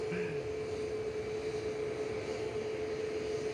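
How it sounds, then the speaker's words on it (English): Ryanair Boeing 737 MAX 8-200 departing Manchester Airport for Grenoble, a steady jet engine drone with a sustained tonal hum over broadband rumble, moderately distant and unbroken for a few seconds. "So this is Ryanair heading off to Grenoble, EIFY 737 MAX 8-200, flight 1432."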